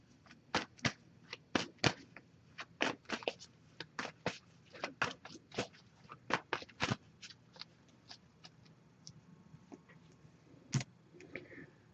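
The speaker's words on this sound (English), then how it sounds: "So, just going to give this a few shuffles now." A deck of tarot cards is shuffled at close range in quiet, repeated riffles and taps, a steady run of soft crisp bursts with no talking.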